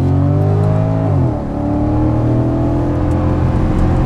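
A 2010 Porsche Panamera 4S AWD V8 accelerating hard, the loud engine note climbing steadily, dropping briefly at a gear change, then rising again in a close, continuous roar.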